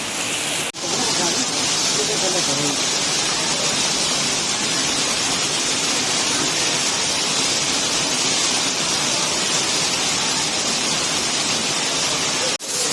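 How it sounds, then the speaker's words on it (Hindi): Heavy monsoon rain pours down on the Vaishno Devi pilgrimage route, heard from under a shed as a loud, continuous roaring hiss that barely wavers, with two brief dips near the start and end. "बहुत तेज बारिश आ रही है और शेड से निकलना है"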